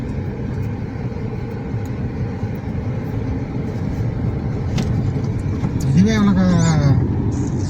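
A small Renault Kwid hatchback drives over a potholed road, giving a steady close engine and road rumble inside the cabin throughout, with a person speaking briefly near the end.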